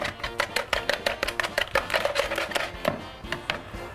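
Rapid, rhythmic tapping and scraping as a utensil beats a mixture with milk in a bowl, close and fairly loud, with no talking.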